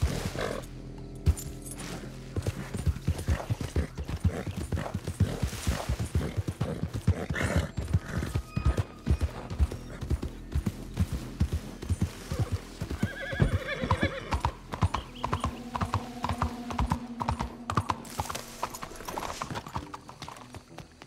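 Horse hooves clip-clop steadily through a Red Dead Redemption 2 game scene, with a couple of whinnies breaking in, all fairly loud and close over background game sound.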